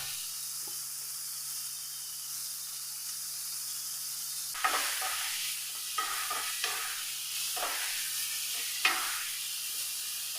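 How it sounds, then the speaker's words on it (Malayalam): Vegetables including carrots and green chillies are sautéed with salt in a pan, giving a steady sizzle and hiss with several louder stirring scrapes and clinks toward the end, with no talking. "ഇത്രയും ചേർത്ത് നമുക്ക് നല്ല പോലെ ഒന്ന് വഴറ്റിയെടുക്കാം"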